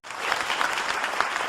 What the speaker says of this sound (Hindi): तालियों के माध्यम से हमें मंच तक जरूर